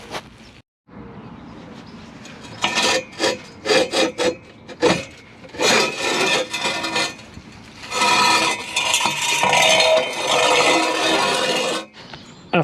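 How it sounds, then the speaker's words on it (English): A wire brush scrubs the rusty exhaust joint of a 2008 Vauxhall Corsa, loud and close, in short rasping strokes that give way to a long continuous stretch of harsh scraping. "After cleaning it up with a wire brush, getting all the old rubbish off"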